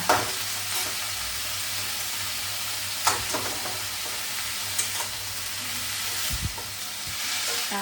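Noodles with schezwan chutney stir-fried in a pan, steady close sizzling with scattered scraping and clinking of a utensil stirring, no talking.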